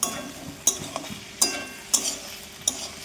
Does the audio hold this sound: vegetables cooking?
yes